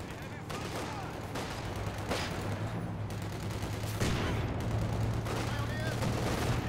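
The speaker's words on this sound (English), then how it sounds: "Taking small arms fire." Small arms and machine gun fire in a video game battle: repeated muffled volleys and bursts of shots pop over a constant low rumble of combat, moderately distant, with voices calling out underneath.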